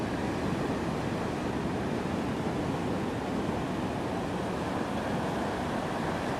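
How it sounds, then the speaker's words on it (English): Ocean surf rolls in steadily at Daytona Beach from a park south of the pier, a loud, continuous broadband wash with no breaks or voices. "You're looking at the ocean from Sunsplash Park,"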